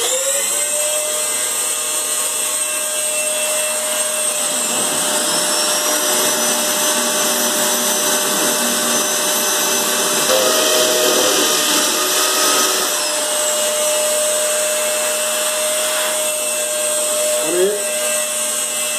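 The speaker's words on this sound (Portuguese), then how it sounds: "Vou ligar aqui, ó, o aspirador de pó." A vacuum cleaner runs continuously and loudly while a wall is drilled during a DIY job at home, a steady whine with a brief shift near the middle, with a voice talking faintly beneath.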